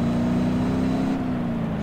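A video game vehicle engine drones steadily as it drives along, a constant close motor hum with no talking.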